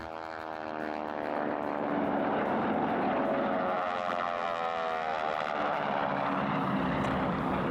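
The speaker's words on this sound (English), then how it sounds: "I like racing airplanes because I love watching airplanes race" A racing airplane roars past the pylons at the Reno air races, its propeller engine swelling loud and holding a steady, slightly falling droning pitch.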